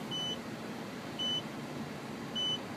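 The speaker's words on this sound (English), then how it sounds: "So the backup sensors have actually kicked in. I do hear them beeping." Three evenly spaced electronic beeps, a little over a second apart, from a 2006 Porsche Cayenne's backup parking sensor over a low engine hum.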